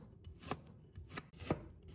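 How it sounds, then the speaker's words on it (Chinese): A knife cuts peeled raw ginger into thin slices on a board, making a few crisp, separate chops, each a quiet tap spaced unevenly in an otherwise quiet kitchen. "给它切成薄片"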